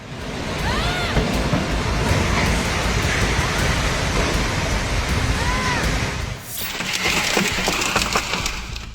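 Heavy rain pouring in Ruidoso, New Mexico, a loud continuous hiss and patter of downpour on surfaces, steady throughout with a brief dip and a slight shift in texture partway through.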